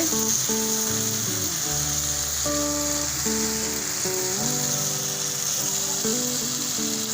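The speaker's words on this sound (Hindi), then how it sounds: "मसाला भून रहे" Masala with softened tomatoes fries in a pan for fish curry, a constant sizzle running beneath steady background music with no one talking.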